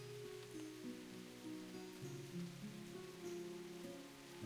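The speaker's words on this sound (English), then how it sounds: "One is rain clashing on the rocks." Faint rain patters on rocks at night, a soft steady wash under a low droning hum and tonal ambient music, with no voices.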